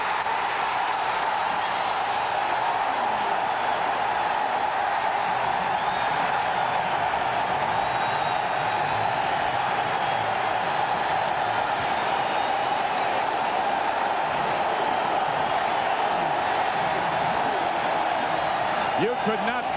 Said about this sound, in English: You could not comprehend the crowd noise here.